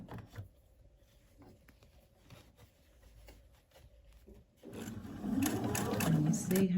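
Sewing machine stitching a linen shirt sleeve, quiet rapid patter at first under a talking voice, then louder steady mechanical running in the final seconds.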